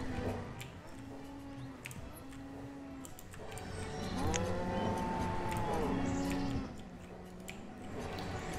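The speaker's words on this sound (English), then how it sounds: "Cows are awfully noisy" Several drawn-out cow moos from the farm-building game Banished sound one after another over a steady background hum, some overlapping, fairly loud and close.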